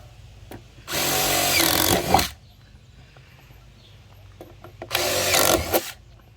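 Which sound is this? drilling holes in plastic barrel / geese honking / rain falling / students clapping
drilling holes in plastic barrel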